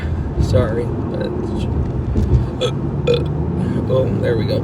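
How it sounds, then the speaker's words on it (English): A man lets out a burp up close, a low rumbling belch that rolls over a couple of seconds amid his casual talk and some background murmur. "I feel like I got a burp"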